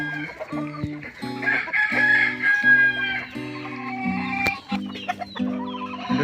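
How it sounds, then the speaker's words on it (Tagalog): A male red junglefowl near a poultry yard gives repeated close clucks and calls in a steady pulsing rhythm, with a short crow-like phrase among them. "Meron tayo nakita dito na labuyo na lalaki."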